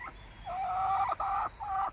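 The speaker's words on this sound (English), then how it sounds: "chickens!" Chickens give a run of bird calls in three bursts, the middle one longest, close by over faint outdoor background noise, at a garden vegetable show.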